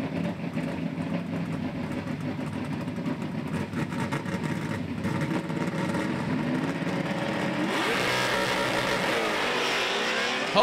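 Drag race cars launching side by side in the NMRA Pure Stock finals, a loud sustained engine roar that builds and rises sharply in pitch near the end as the cars accelerate down the strip.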